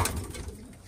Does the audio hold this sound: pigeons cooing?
yes